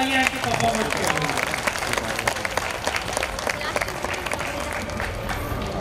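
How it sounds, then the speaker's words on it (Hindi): Enthusiastic audience applause for a Ramlila stage performance, a dense, steady wash of many hands clapping, moderately loud and continuous, with some voices mixed in. "एक बार जोरदार तालियां हैं कि परफॉर्मेंस के लिए।"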